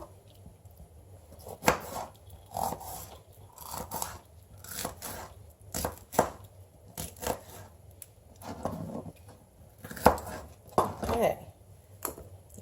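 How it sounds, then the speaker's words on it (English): A knife slicing a red pepper for an Italian pasta salad makes a close, irregular series of crisp cutting strokes with short pauses between them. "I think I'm going to slice just a little more."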